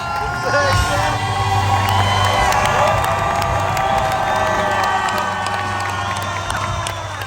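A Broadway audience at the musical Shucked cheers, whoops and applauds loudly and continuously, a dense crowd roar with shouts rising above it.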